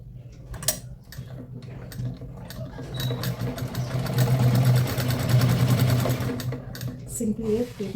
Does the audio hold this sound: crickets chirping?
no